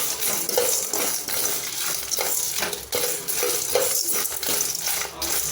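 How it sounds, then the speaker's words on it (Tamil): Cumin and other whole spices dry roasting in a pan with no oil over a medium gas flame, giving a continuous close dry rattle and scrape as they are stirred, with steady crackling throughout. "ஆயில் எதுவுமே ஊற்றாமல் வரைச்சட்டியில் போட்டு வறுத்துக்கலாம்."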